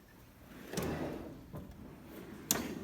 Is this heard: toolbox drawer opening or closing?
yes